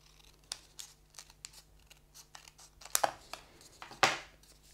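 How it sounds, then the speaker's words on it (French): Scissors snipping through a thick stack of folded paper while finishing an origami boat, a few separate cuts with crisp crunching bursts, close and fairly quiet with small rustles between. "donc je finis avec mon ciseau."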